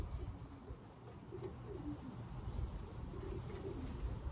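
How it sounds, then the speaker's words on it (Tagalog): Racing pigeons entered in a one-loft race give soft, low cooing calls in a quiet, faint, continuous murmur of bird sounds up close. "This one is a blue bar white light."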